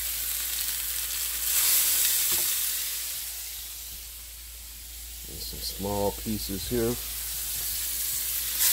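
Strips of wild turkey sizzle steadily in olive oil in a skillet, a continuous frying hiss throughout with a brief voice speaking near the end.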